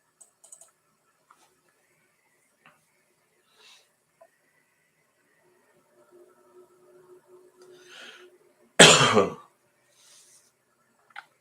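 A single sharp cough breaks a mostly quiet stretch of faint clicks and small handling sounds.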